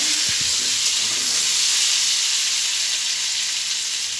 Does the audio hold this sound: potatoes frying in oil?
yes